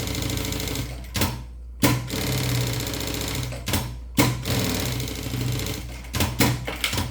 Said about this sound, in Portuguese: eu passo uma costura com um pé de máquina aqui